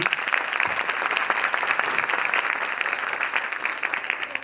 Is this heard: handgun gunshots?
no